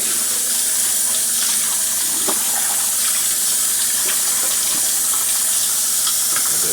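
Steady running tap water rinsing fruit at a kitchen sink during mead preparation, a continuous close hiss and splash with small knocks from handling, no talking.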